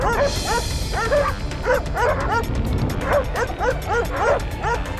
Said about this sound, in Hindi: भौंकना बंद।